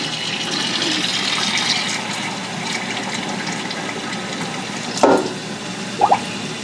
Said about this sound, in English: And then you fill it up